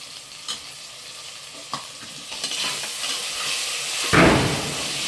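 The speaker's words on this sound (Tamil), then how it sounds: "இது கூடயே கொஞ்சம் உப்பு போட்டு வதக்குங்க." Tomatoes and onions sauté in a pan, soft steady sizzling with occasional stirring scrapes, then a louder hiss as the pan is stirred.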